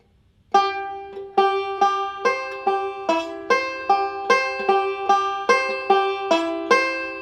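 Bright plucked five-string banjo notes in quick, rolling patterns with sharp attacks and short decays, played close and clearly with nothing else heard.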